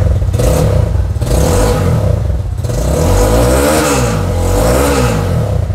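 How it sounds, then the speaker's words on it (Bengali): A Rapido Road Master Chinese motorcycle engine revs loudly nearby, a rough clattering idle rising into two throttle blips that swell and fall back, with no talk. "এই বাইকটির সাউন্ডটা দেখাই আমি।"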